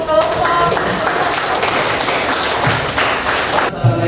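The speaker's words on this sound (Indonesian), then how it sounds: "Berikan tepuk tangan untuk kelompok." An audience claps for a presenting group in a classroom teaching session, a somewhat uneven patter of hands with voices mixed in, ending abruptly near the close.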